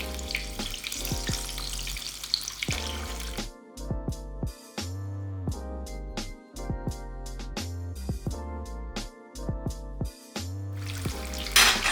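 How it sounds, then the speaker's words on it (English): Paneer pakora frying in hot oil gives a dense, steady sizzle for the first few seconds. Rhythmic background music then takes over, with the frying fainter underneath. "So paneer has been frying like the last 6 minutes,"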